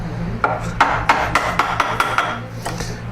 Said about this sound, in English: while I chop out the remaining waste